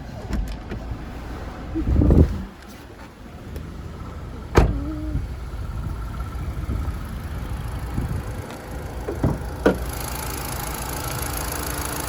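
A 2017 Kia Rio S being opened up to get under the bonnet: a few scattered clunks and sharp latch clicks over a quiet background, including a heavier thud early on and a crisp snap midway.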